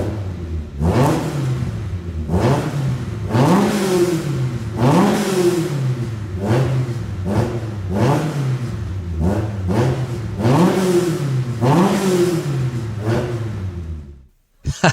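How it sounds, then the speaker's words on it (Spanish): Classic Alfa Romeo racing car engine revving repeatedly, with about ten sharp rising-and-falling blips in a steady rhythm, loud and close, then cutting off abruptly near the end. "Subes de revoluciones este coche y tiene un rugido impresionante."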